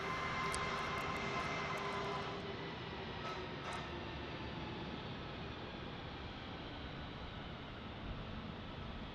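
A Breeze Airways airliner at San Diego airport gives a steady, broad engine roar heard from a distance, fairly faint and holding level throughout with no voices.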